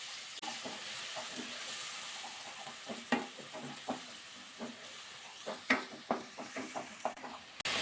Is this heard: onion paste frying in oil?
yes